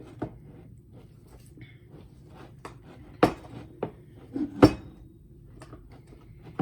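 Fluffy slime being mixed in a bowl, heard as a few faint, scattered clinks and taps against the bowl over a quiet background, with two sharper knocks near the middle.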